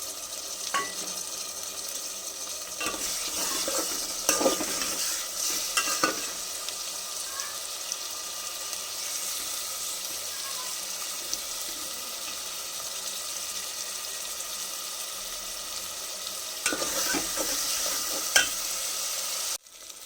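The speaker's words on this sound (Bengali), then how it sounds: "এবার আমি পেঁয়াজ পেস্টটা দিয়ে দিচ্ছি।" Onion paste fries in a handi pot set for mutton curry, with a steady close sizzle, bursts of stirring scrapes near the start and again toward the end, and no voices.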